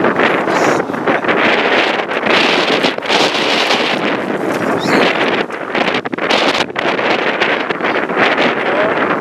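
Strong wind blows outdoors, buffeting the microphone with a loud, continuous roar and rough gusts for the whole stretch.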